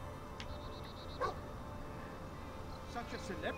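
A dog in the video game Fable 2 gives a couple of short, quiet barks and yips over a steady game background, with a voice talking nearby.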